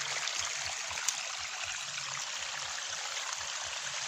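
Water flows and hisses in a steady, soft rush during outdoor fish catching, a continuous moderately faint wash of stream noise with no talk.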